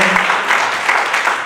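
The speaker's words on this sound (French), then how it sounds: "Applaudissez pour vous-même" Guests at a civil wedding ceremony clap briefly, a short burst of applause with a voice faintly audible under the clapping.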